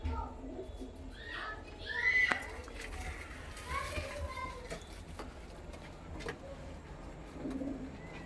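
Punjabi pigeons of an original flying breed coo softly in a loft, a few low throaty calls mixed with other bird chirps under children's voices and background chatter.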